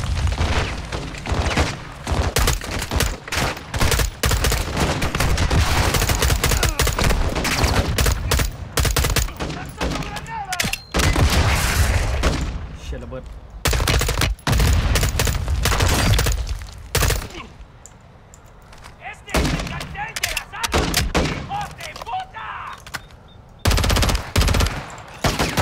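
Dense, sustained automatic gunfire and fusillades from Call of Duty Modern Warfare II, loud and continuous with bursts of booms and shattering impacts, briefly easing before resuming.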